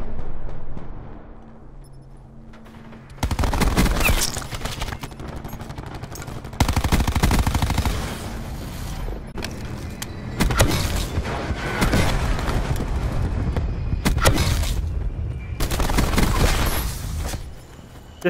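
A video game minigun firing in long sustained bursts, a dense, loud roaring stream of rapid shots that starts and stops several times, with brief quieter gaps and booming impacts.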